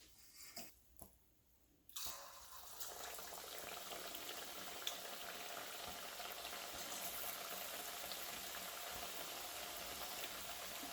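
Chinese mixed vegetable fritters drop into hot oil after a few soft clatters, and a loud, steady bubbling sizzle rises and holds close and unbroken with no talking.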